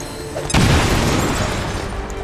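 A grenade detonates in the strategy game XCOM 2: one sudden, loud, deep boom with a sharp onset, its rumble trailing off over about two seconds.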